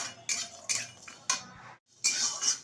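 Spices for a mutton curry are dry-roasted in a kadai, heard as a metal spatula scraping and tapping the pan in short bursts with a brief pause and no talk.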